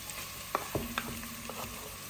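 Onions frying in a heated pot, a steady sizzle with a few clinks and stirring knocks near the start, close and moderately loud.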